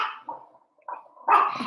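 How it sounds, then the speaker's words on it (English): A dog barks at a visitor arriving indoors, giving a few short, close, moderately loud barks separated by brief pauses. "You do not have to bark at everybody that comes in."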